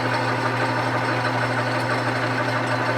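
A Grizzly lathe under power while gear-cutting a pinion gear, a steady loud motor drone with a constant low hum and broadband machine whir, unchanging throughout, no voices.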